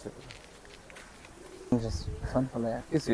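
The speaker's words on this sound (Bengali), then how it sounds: "দর্শক রবিউল ভাইয়ের কিন্তু একটা চমৎকার কবুতরের খামারও আছে" Low soft cooing of pigeons sounds in short repeated phrases, starting quietly and growing louder and closer toward the end.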